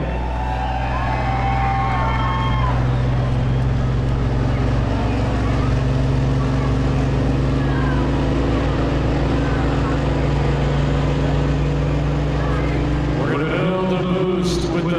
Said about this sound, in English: Let's go tractor pulling.